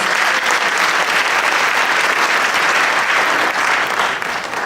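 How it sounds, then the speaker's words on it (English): Steady, dense applause from an audience at a New York City council member's inauguration ceremony, loud and continuous throughout, easing slightly at the very end. "Let's give him another round of applause."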